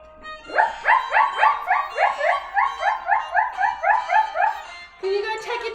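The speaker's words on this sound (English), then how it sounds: "A dog." A dog barking in a fast rhythmic series of about twenty sharp, close yips and barks, ending with a longer whining call.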